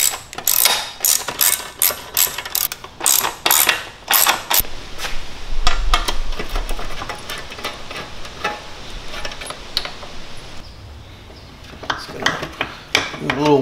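A ratchet wrench backs out the 12mm bolts holding the silencer of a Pro Circuit exhaust on a Kawasaki KLX140 dirt bike, giving quick runs of clicking ratchet strokes with metallic clinks in between.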